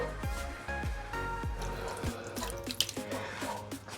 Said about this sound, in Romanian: Mai pun un pic de apă ca să se ducă bine